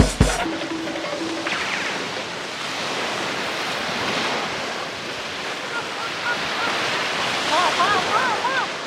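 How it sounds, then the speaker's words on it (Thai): Strong wind roars across an island beach in Samui, Thailand, ahead of an approaching storm, with surf washing in behind it as steady loud rushing noise and faint voices partly buried underneath. "ลมแรงมากเลยพายุจะเข้า"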